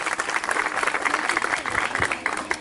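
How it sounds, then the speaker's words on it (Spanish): A crowd at an outdoor course graduation ceremony in the community of Aquiles Serdán applauds the instructors with a short burst of brisk clapping, mixed with a voice over a loudspeaker. "el aplauso por favor a sus instructores"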